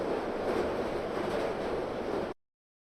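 A train rolls steadily onward in the game We Are Passengers, a broad continuous rumble that holds level, then cuts off abruptly.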